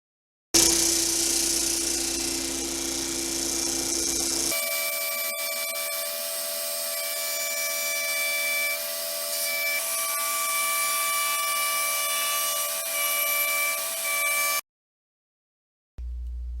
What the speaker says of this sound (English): I have a circle cutting jig for my bandsaw, but for smaller ones you're better off just tracing them and freehanding it.